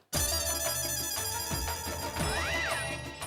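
A mobile phone rings loudly and steadily while a call goes out in a Hindi comedy household scene, an electronic ringtone melody repeating over a low background bed with no talking.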